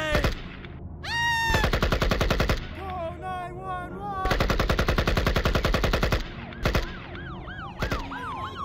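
Cartoonish gunfire from a gun-wielding orange, rapid machine-gun bursts in several loud stretches mixed with whistling, swooping synthetic tones and siren-like wails, with no pauses of quiet between the effects.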